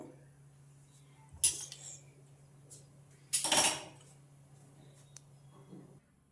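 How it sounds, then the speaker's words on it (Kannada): A pan is set on a lit stove to heat for carrot halwa, with two short metallic clatters a couple of seconds apart over a faint low hum, otherwise fairly quiet. "ಒಂದು ಪ್ಯಾನ್ ಇಟ್ಕೊಳ್ತಾ ಇದ್ದೀನಿ ಬಿಸಿ ಆಗಲಿ ಸ್ವಲ್ಪ ಅದು"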